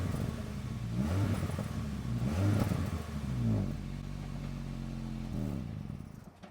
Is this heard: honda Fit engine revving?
yes